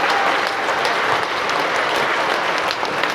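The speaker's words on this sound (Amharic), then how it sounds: "ጭብጨባው ሊቆም አልቻለም" Sustained applause from an audience filling a large hall, a dense, even wash of clapping that stays loud and unbroken throughout, with no voices.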